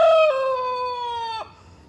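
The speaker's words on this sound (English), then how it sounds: "I love listening to him. He's a good rooster." A homestead rooster crows once, close and clear: a single sustained, tonal call lasting about a second and a half before breaking off, with no speech.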